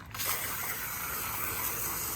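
A steady, close hiss of water spraying from a hose starts abruptly and continues without a break.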